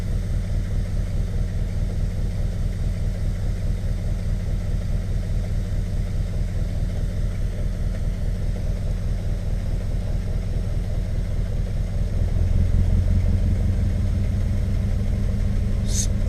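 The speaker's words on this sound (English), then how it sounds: "We're just going to turn it on and see if it runs right on its own now. still running rough as shit." A Suzuki X90 engine idles rough and misfiring, a close, steady low rumble with an uneven pulsing beat that grows slightly louder and changes near the end.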